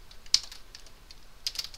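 Light keyboard typing with a few faint, scattered keystrokes in two small bursts, quiet and close, with no voice.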